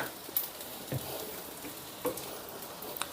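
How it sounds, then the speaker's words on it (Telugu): Egg fried rice tossed over a high flame in a street-style pan, a steady sizzling hiss broken by several sharp metallic clinks and scrapes. "ఇప్పుడు వీటన్నిటిని స్టవ్ హై ఫ్లేమ్లో పెట్టుకొని స్పీడ్గా టాస్ చేసుకోవాలన్నమాట"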